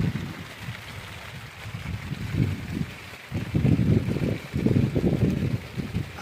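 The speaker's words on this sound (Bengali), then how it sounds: "ভীষণ হাওয়া হচ্ছে।" Strong wind gusts across a river during rainy weather while three people fish from a boat hauling nets, buffeting the microphone in loud low rumbling bursts that swell and drop, with water sloshing beneath.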